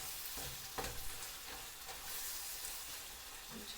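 Garlic sizzles steadily in a pan over medium-high heat, a close, continuous frying hiss with a few soft stirring scrapes, no voices.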